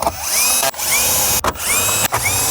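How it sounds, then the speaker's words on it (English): Three short, loud whirring bursts from a power tool driving 10mm bolts back in on a Land Cruiser, each run rising in pitch and separated by brief gaps, close up with no voices. "So let's bolt the 4 10mm bolts back on."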